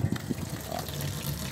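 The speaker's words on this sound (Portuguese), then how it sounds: "Olha, ó, barulhão da água. É, a água do estádio aqui é forte, né?" Strong running water from a stadium water supply in Rio Branco, Acre gushes steadily nearby, a continuous rushing flow with a few bumps and knocks near the start.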